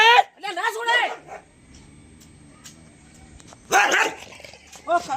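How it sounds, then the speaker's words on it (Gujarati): A dog barks in a few sharp bursts, loud and close, between stretches of people talking nearby. "ઓ કાળુબા હા યાર કૂતરું કેવું રાખો તમે"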